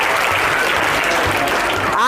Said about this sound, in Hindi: आप लोग अपने लिए एक बार जोरदार तालियां बजा लीजिए।